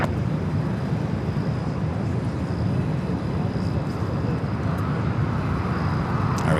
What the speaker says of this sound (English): we got Virgin, the Dreamliner, now rolling down at 24 left